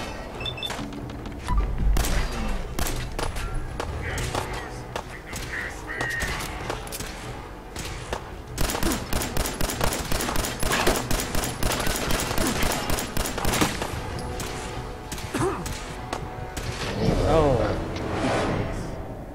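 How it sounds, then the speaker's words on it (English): Laser rifle fire in Fallout 4 combat: long stretches of rapid, sharp zapping shots in bursts, with scattered impacts and thuds, and voices talking over the firing. "That's the laser."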